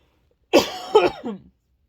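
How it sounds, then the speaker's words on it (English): A short burst of two or three harsh coughs, close and loud, after a moment of silence. "I'm just gonna start coughing."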